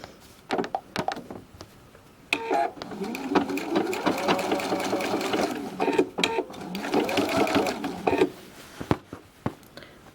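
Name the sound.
sewing machine stitching quilt binding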